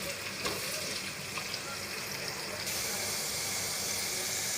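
Onions frying in a pan for a Pakistani chana dal, cooked until light brown, giving a steady close sizzle and crackle that runs unbroken throughout, growing a touch brighter partway through.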